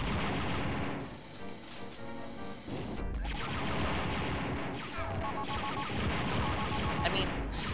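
Weapons fire in the video game Star Wars Dark Forces in a dense, rapid barrage of blasts and crashes, continuous and loud throughout, with a voice talking over the gameplay.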